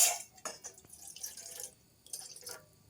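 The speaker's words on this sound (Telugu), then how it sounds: "గిన్నె పెట్టుకుని దానిలో ఒక గ్లాస్ వాటర్ వేసుకోవాలి" Water poured from a glass into a cooking pot on a kitchen stove, ahead of melting jaggery syrup: short splashy bursts of liquid, close and fairly quiet, with drips and clinks between the pours.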